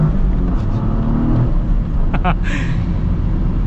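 A 2024 Toyota GR Corolla hot hatch accelerating hard, the engine rumbling loud and close from inside the cabin while a voice talks over it.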